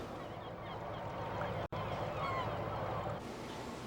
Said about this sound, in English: a nesting area for the gulls and cormorants out there